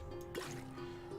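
A water bottle is emptied into a cauldron in Minecraft Sky Factory 4, a short, quiet splashing pour lasting about a second with no talk over it.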